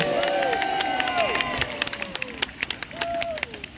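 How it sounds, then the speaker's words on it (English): A crowd at Peasholm cheers for a British flag being hoisted over the island, a burst of voices and whoops followed by scattered claps and shouts that thin out toward the end. "let's have a cheer for the flag"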